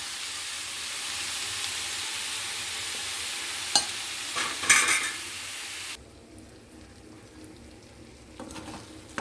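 Brinjal and chana dal curry cooking in a pan, with a steady close sizzle and frying hiss, a few brief clinks and stirring scrapes, then a quieter simmer for the last few seconds.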